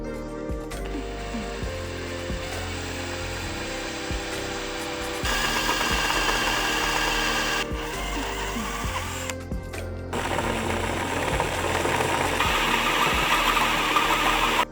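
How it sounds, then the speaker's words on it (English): A power drill with a small 1/8-inch bit whines loudly and continuously up close, its motor pitch shifting as it bites into metal drilling a pilot hole on a Ram 1500, with brief pauses between bursts. "we're gonna grab a small drill bit, about an 1/8 inch, and then drill a pilot hole"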